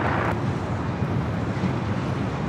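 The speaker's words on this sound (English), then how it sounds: "Next arrival is a JetBlue flight coming in from Newark" A JetBlue Airbus A321 arriving at LAX from Newark makes a steady, loud broadband roar that stays even throughout, with a wind-like rush over it.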